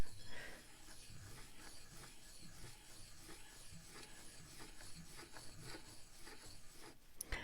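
An ink stick grinds on an inkstone in a soft, continuous, gritty rubbing with a slightly rough texture, heard up close and alone in a quiet space, ending with a brief click.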